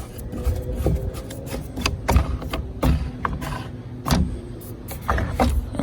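Close mechanical rubbing, clicks and knocks as a SportRack Mooring 4-in-1 kayak rack is adjusted and loosened, with a low uneven scraping texture and several sharper clunks, no talking.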